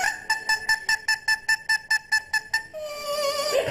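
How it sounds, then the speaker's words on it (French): A parrot sings a melody from Mozart's The Magic Flute, a quick run of about a dozen evenly spaced, bright whistled notes followed by a sustained sliding phrase, close and clear with no talk over it. "elle fait aussi chanter son perroquet, la flûte enchantée de Mozart."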